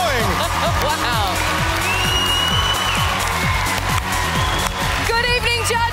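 A studio audience at an Australian Idol talent show cheers and applauds loudly and steadily, with music and excited voices mixed into the continuous roar.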